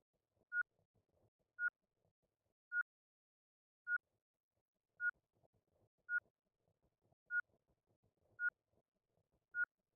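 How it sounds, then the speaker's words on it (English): Oxygen warning beeps from the space survival game Ostranauts, nine short, identical electronic bleeps sounding about once a second in a steady rhythm, each loud and clean over faint low background rumble. "It's doing a beep every time my O2 gets used a little bit."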